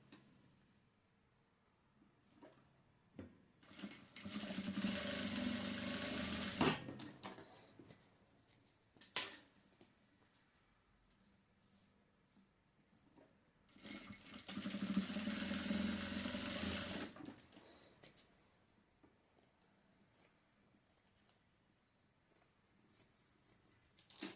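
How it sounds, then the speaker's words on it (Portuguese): A sewing machine stitches a 1 cm seam across the ends of a denim wallet lining, running in two steady bursts of a few seconds each, close and loud, with quiet handling between them and no talk. "nós vamos passar uma costura de 1 centímetro nas duas pontas aqui, nos dois lados de 13 centímetros"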